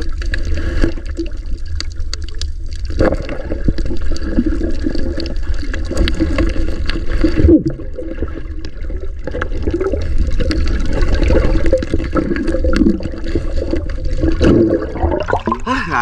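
Loud, continuous sloshing and splashing of choppy water, with rumbling low wash and irregular bursts of spray close by.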